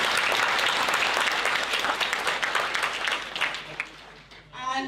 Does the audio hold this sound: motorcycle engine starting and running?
no